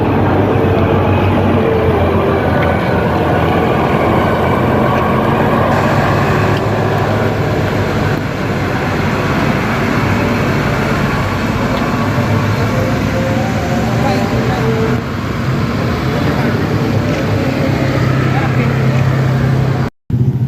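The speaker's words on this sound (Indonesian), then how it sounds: "Al-Hijah Arpedo meninggalkan Terminal Barasolok menuju Jakarta dan sekitarnya." An Al-Hijah bus pulls out of Terminal Bareh Solok, its engine a loud, steady drone with road rumble throughout, ending in a sudden cut.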